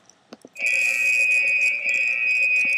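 An antimatter explosive alarm in the Minecraft ICBM mod sounds after a few short clicks, a loud steady high-pitched electronic tone that holds without a break.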